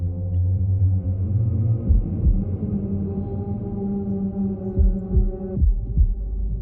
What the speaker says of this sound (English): like that heartbeat, that feels so significant